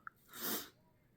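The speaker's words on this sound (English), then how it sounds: "I had to sneeze." One breathy sneeze from an adult with spring allergies, close and fairly soft, with a brief sharp intake before it and quiet afterward.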